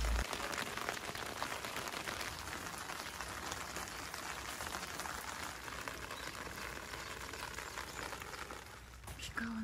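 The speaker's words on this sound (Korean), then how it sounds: "비가 오는데" Steady rain falls on a spring vegetable garden plot, making a dense, even patter of drops that holds for the whole stretch, close and continuous.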